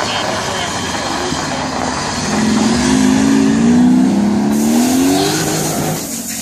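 A V8 Audi engine roars at close range with wheels spinning, its loud rising drone swelling in the middle and easing off near the end, over steady mechanical noise.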